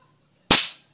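A side-lever PCP airgun fires a single shot, a sharp sudden crack that rings off and fades quickly after silence.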